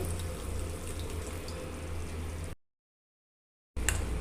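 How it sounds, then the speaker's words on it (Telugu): A steady trickle of water pouring into a pan of spices for gongura rice for a few seconds, stopping briefly, then resuming with a splash. "రెండు స్పూన్లు వాటర్ పోస్తున్నానండి."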